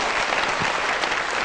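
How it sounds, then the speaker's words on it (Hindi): Studio audience at a comedy television show breaking into a brief, dense burst of applause, many hands clapping loudly and continuously. "आपका बहुत बहुत शुक्रिया, आप सबकी बहुत सारी तालियों में।"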